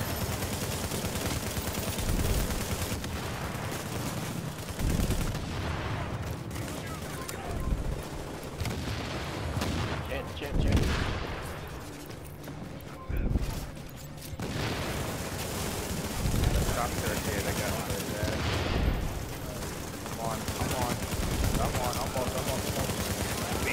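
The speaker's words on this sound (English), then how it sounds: "He's gonna shoot me, he's shooting me." Loud, dense gunfire and explosive blasts from the video game Tomato Team: Rogue Chronicles roll on with sustained automatic bursts and heavy booms, broken by brief lulls, while a player talks excitedly over the fighting.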